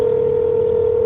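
A continuous steady telephone dial tone, a single unbroken electronic hum heard up close and alone for about a second.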